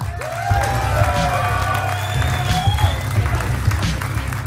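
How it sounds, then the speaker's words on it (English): A crowd at a Finnish esports semi-final event applauds and cheers continuously, a dense steady wash of clapping with scattered shouts, while music plays underneath. "one more time, a round of applause."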